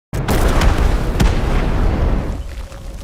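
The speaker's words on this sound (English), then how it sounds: "The team detonates explosives." Explosives detonate in a war film scene: a sudden loud boom erupts and rolls into a long, dense rumble that slowly fades over a few seconds, with no talk.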